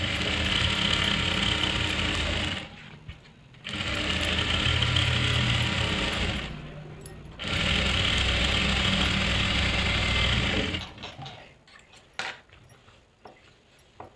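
Sewing machine running a wavy stitch along a salwar seam, a loud close mechanical whir in long bursts broken by short pauses, ending with lighter clicks and handling.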